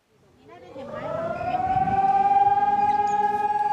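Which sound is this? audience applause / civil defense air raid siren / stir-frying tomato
civil defense air raid siren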